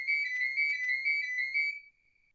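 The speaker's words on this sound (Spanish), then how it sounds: "tengo una llamada al teléfono, por favor" A phone rings with an incoming call: a clean electronic trill in four quick repeated bursts, fairly loud and close, then a sustained tone that fades out, with nothing else audible.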